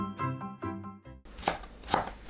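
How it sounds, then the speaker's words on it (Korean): A knife chops seasoned bracken, spinach and bellflower-root namul into small pieces on a board, giving two distinct close thuds after a short melodic intro. "고사리나물, 시금치나물을 작게 썰어주세요"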